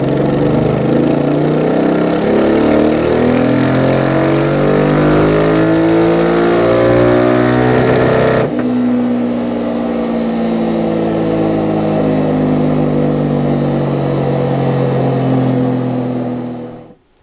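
A Royal Enfield Interceptor 650 twin, freshly ECU-remapped, revs hard and steady close by, its pitch climbing and falling in long sweeps before settling into a sustained drone that cuts off at the end.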